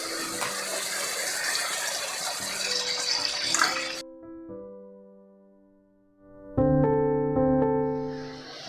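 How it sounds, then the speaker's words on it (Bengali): Water pours and splashes into a pan of fried-down masala for a Bengali hilsa fish curry, a loud gushing stream for about four seconds, followed by quieter tonal sounds and a second short burst. "এবার পরিমাণ মতো জল দিয়ে দেব।"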